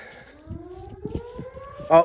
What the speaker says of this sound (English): Sirens always go off at 12:01 in this town.